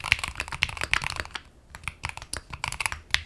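Fast typing on a Keychron mechanical keyboard with clacky yet smooth switches and concave keycaps: crisp, close clicks in a quick, uneven rhythm, with a brief pause near the middle and no voices.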